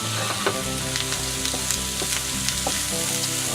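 Garlic, thyme and rosemary fry in a pan over medium-low heat, a steady close sizzle broken by scattered crackles and a few stirring knocks, with no one talking.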